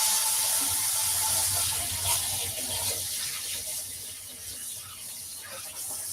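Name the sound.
washing hands under running tap water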